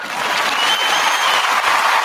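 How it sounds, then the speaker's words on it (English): Continuous crowd applause at an awards-show broadcast, a dense, even wash of many hands clapping throughout, fairly loud with no speech over it. "let me begin to clap and bring the video in right now."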